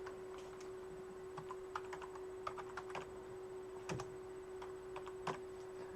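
Close computer keyboard typing while extensions are entered in Visual Studio for a Hyperledger Fabric blockchain setup, irregular quick bursts of sharp key clicks over a constant low hum, no voices.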